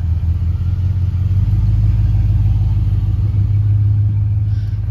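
A 1986 Pontiac Parisienne on 26-inch Forgiato wheels drives slowly across a bumpy parking lot, its engine giving a loud, steady, close low rumble with no clear separate thuds.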